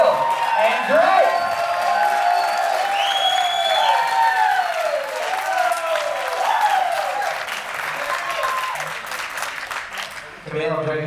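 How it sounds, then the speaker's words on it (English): Guests at a rehearsal dinner applaud and cheer for an engaged couple, sustained clapping with whoops and excited voices rising over it, fading toward the end. "Let's get a round of applause for the couple, Camille and Drake."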